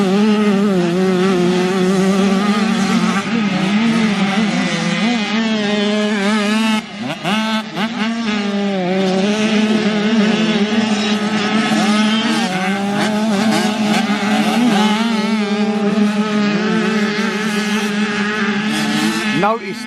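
Small-wheel 85cc two-stroke motocross bikes race on a muddy schoolboy club track, with several high-pitched buzzing engines revving and overlapping continuously, loud and close, rising and falling as riders pass and change gear.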